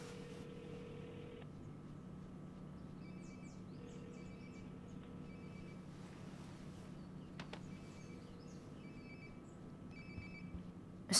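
A cell phone rings nearby in the video game Life is Strange: Before the Storm, its repeated electronic ringtone tones sounding over a low ambient room hum with no talking.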